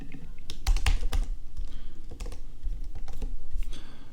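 Typing on a computer keyboard gives irregular bursts of close, crisp key clicks and taps with short pauses between them, and no voices are heard.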